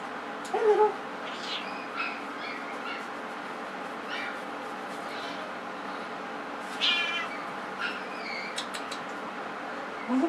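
A tiny hairless cat meows, thin and fairly faint, a few short calls spread over a soft steady background hiss, with young puppies nearby.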